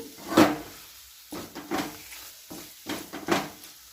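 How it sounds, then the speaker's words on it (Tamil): Cowpea (karamani) masala dry-frying in a pan, with a few sharp scraping and stirring strokes spaced across the clip over a low background sizzle, close by and with no talking. "இது நல்லா ட்ரை ஃப்ரை பண்ணணும் சூப்பராக இருக்குது பாருங்க நல்லா ட்ரை ஃப்ரை பண்ணிட்டோம்னா மட்டன் மாதிரி இருக்கும் இது"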